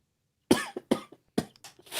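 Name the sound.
cough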